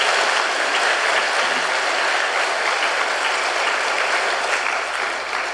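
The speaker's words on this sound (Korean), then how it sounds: "박수 한번 쳐줍시다." A church congregation at a Sunday service applauds, dense, steady clapping at close range that holds at an even loudness for several seconds and tapers slightly at the end.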